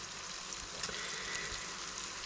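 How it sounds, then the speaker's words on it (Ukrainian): Steady, crackling sizzle of crucian carp frying in hot oil, close and continuous with soft pops throughout. "воно вже шкварчить."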